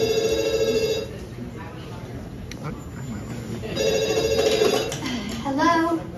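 A telephone rings in bursts after repeated wrong-number calls, its trilling bell sounding twice with quieter room noise and speech between.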